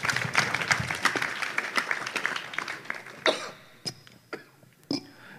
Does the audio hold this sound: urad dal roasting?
no